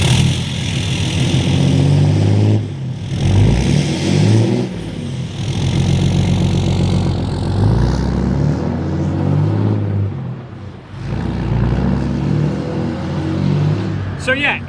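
A Cummins diesel truck engine cranks, fires up and settles into a deep, rumbling idle with a few revs, recorded up close while someone talks over it.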